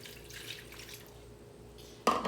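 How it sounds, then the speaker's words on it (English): Water is poured into a stack cooker holding a small roast, a faint, soft trickle and splash that runs quietly for about two seconds before a sudden louder clatter at the end. "I'm going to add some water."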